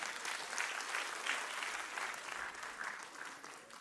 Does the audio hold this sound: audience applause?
yes